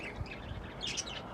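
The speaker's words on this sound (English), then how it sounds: "I apologize for the birds." Birds chirp outdoors, a few short high tweets and a brief squawky call sounding softly over faint low background noise.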